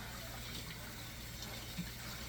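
Water running from a tap into a metal oven baking pan, a soft, steady, faint rush that lasts the whole stretch with no voices.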